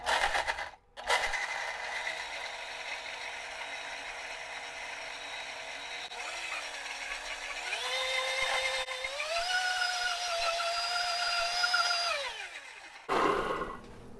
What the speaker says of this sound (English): I blend those up.